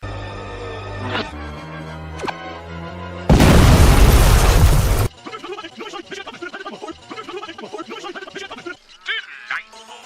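Bomb explosions in an audio drama: a loud, roaring blast bursts in suddenly, holds for about two seconds, then cuts off into clattering, crackling debris and scattered noises, following a quieter stretch of deep tones and twangs.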